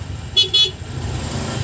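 Two quick, close horn beeps from a Honda Click 125 scooter during riding practice, sounding over a low engine hum.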